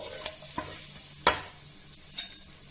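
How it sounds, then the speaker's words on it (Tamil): Ginger and garlic frying in a pan for hot and sour chicken soup, a quiet sizzle under a few sharp scrapes of a spoon, close up with no talking. "ஜிஞ்சர் கார்லிக் இஞ்சி பூண்டை நம்ம போட்டுக்கலாம். போட்டு இது நல்லா வதக்கிடலாம்."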